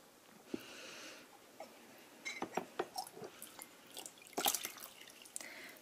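Water dripping and splashing as a long-haired guinea pig is lowered into about an inch of water in a washing-up bowl: faint, scattered small drips and trickles, growing busier toward the end, with soft close sniffing-like sounds.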